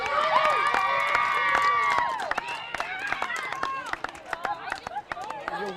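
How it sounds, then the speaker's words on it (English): At an 18U travel softball game in Kyle, Texas, spectators cheer and shout after a home run, with whoops and scattered claps fading into quieter, intermittent yells and clapping. "That'll wake up the crowd."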